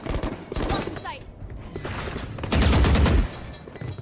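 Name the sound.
gunfire in Valorant video game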